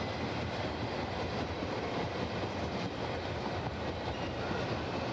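A loaded potash freight train rolls steadily past a live trackside railway camera, a continuous broad rumble and wheel noise that holds at an even, fairly close level throughout with no voices.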